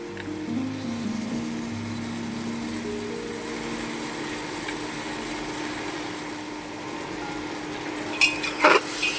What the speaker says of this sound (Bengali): এবার একটু নেড়ে মিশিয়ে নেবো আমি। মটর ডালটা দিয়ে দেবো।